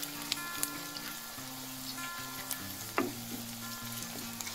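Turmeric, coriander powder, garam masala and red chili roasting in a pan produce a low, steady sizzle with occasional stirring taps and scrapes, quiet and without talk.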